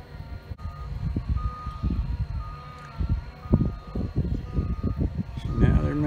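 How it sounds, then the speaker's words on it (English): A faint, steady warning beep from a reversing vehicle sounds in the distance beneath rumbling machinery and nearby talk. "You hear that signal, that warning beep, something backing up."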